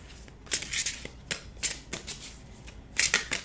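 Oracle cards from an Ascension Oracle deck shuffled by hand in a tarot reading, giving several quick papery riffling bursts separated by short pauses, close and fairly quiet.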